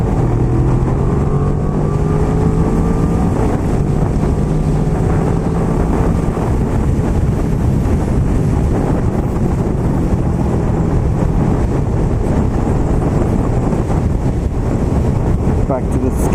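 A motorbike rides at speed past a truck, its engine drone buried under heavy, constant wind roar buffeting the microphone, loud and unbroken from start to finish.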